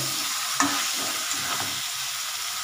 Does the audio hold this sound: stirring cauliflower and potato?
yes